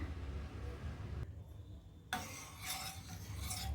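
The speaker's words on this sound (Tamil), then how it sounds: "நல்லா கலந்து விட்டுக்கலாம்" A spoon scraping and rubbing in a pot of javvarisi and semiya payasam with badam pisin and cardamom powder, a soft continuous stirring rasp with a brief quieter gap, no speech.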